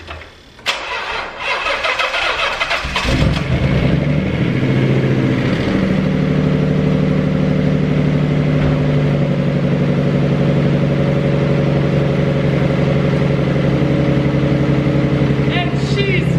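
A Nissan 300ZX twin turbo with a suspected fuel or battery problem cranks briefly, catches and settles into a steady, loud rumbling idle close by that runs on for many seconds.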